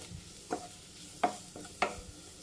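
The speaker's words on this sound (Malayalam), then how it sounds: "ഒരു കാൽ ടീസ്പൂൺ കുരുമുളക് പൊടി ഒന്ന് സോട്ട് ചെയ്ത് കൊടുക്കാം" Black pepper powder being sautéed in a pan at home, heard as three soft, brief stirring scrapes spaced across a quiet background with a faint sizzle.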